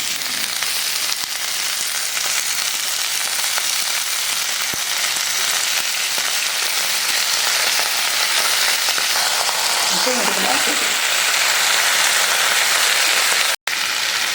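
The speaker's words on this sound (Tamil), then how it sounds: "கொத்தமல்லி பார்த்தீங்கன்னா லேசாக வதக்கினா போதும்" Fresh coriander leaves sauté briefly in a hot pan for a chutney, giving a dense continuous hiss and crackle with a few faint stirring scrapes and no talk.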